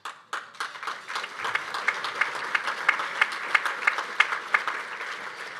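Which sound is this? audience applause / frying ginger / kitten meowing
audience applause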